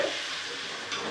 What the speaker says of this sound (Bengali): আমি পনিরের আলু একটু ভেজে নিচ্ছি।